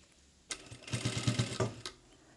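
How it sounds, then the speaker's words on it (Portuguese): A sewing machine stitches two pieces of suede together, running in one steady, close burst of rapid mechanical whirring and clatter for just over a second, then stopping, with no talking. "Vamos juntar um em cima do outro e vamos costurar certinho."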